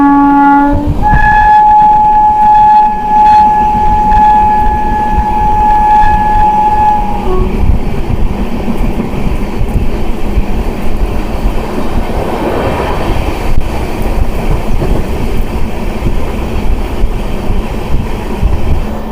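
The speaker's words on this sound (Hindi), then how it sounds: "यहाँ करतारपुर रेलवे स्टेशन पर हमारी ट्रेन डिपार्चर ले रही है।" LHB Lahori Express pulling out of Kartarpur railway station, a long horn blast sounding over steady rumble, then continuous wheel and rail clatter building as the coaches roll, loud and close throughout.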